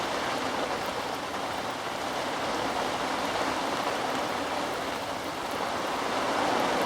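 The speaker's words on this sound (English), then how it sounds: "I don't fancy going out there in the pouring rain at the moment" Heavy rain pours steadily outdoors at a fishing spot, a dense, constant hiss of drops with no breaks and no voices.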